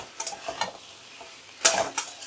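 Beans and potatoes are stirred in a pan on a gas stove, giving a few quiet scraping clinks of a spoon against metal, with one sharper scrape near the end, close and without any talking.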